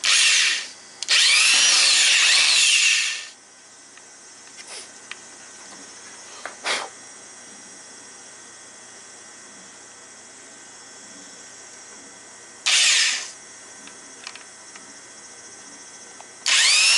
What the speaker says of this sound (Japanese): 適当な箇所にね、穴を開けて、